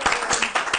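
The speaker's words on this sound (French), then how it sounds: "est-ce qu'on peut encore applaudir pour eux?" Brief burst of audience clapping for a choir in a television studio, a few quick close claps forming a short round of applause.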